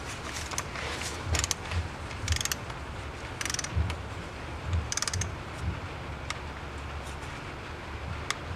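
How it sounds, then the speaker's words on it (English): Torque wrench tightening 10mm bolts to 7 foot-pounds on a BMW 325i, a faint run of ratcheting clicks and metallic ticks in a quiet garage. "I'm gonna go ahead and torque the other ones now."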